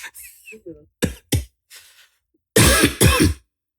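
Several short coughs and throat clears from a person at a podcast recording, first a few light isolated bursts, then two loud, harsh coughs close to the microphone.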